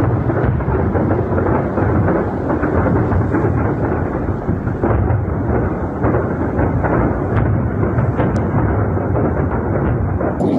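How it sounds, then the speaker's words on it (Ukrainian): A struck missile and artillery arsenal explodes in a prolonged, heavy rumbling roar, like a distant large explosion rolling and echoing, with no voices. "Оце так вибухнуло"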